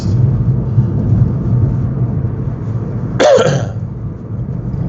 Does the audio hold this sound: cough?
yes